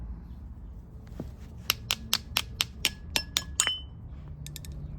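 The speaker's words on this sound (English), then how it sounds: "Let me get a cheaper screwdriver so I can hit it." A hammer strikes a cheap screwdriver to free a clogged part on a Kawasaki KLX 140 dirt bike: about nine sharp, ringing metallic taps in a steady rhythm, close and distinct, with a few lighter clinks after.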